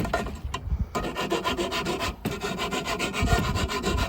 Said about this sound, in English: I got a metal file here. We're gonna shave the ends, just take all, kind of deburr it so it's safe to deal with.